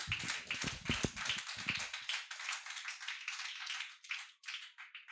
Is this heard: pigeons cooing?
no